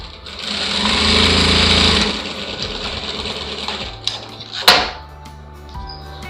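An electric sewing machine stitches a lined blouse, whirring in a steady burst for about two seconds, then giving way to quieter mechanical clicks and a sharp knock near the end.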